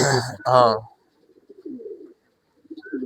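A voice briefly speaks, then soft, low pigeon cooing murmurs nearby in short bursts with quiet gaps.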